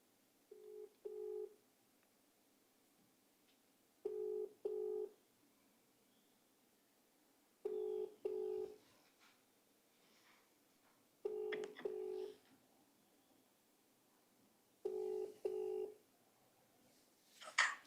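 An outgoing phone call rings out with a steady repeating double-beep ringback tone, six paired pulses spaced evenly about three seconds apart, faint rustling in between and no voices.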